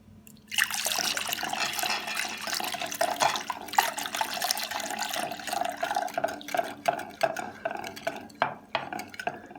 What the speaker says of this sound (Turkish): Ve suyumuzu ekleyerek